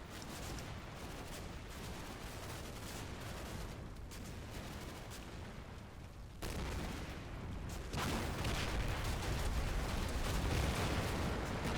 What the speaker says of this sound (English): If he carries on shooting up that building, he might bring it down.